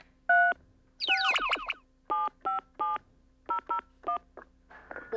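Telephone keypad dial tones from a phone being dialled on a TV variety show, a quick series of short beeps in clusters, one burst of rapid overlapping tones, fairly loud and clear with no talking.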